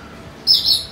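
Parrot at a safari park imitates a hawk with a single shrill, high-pitched screech that starts abruptly and holds for about half a second, close and loud.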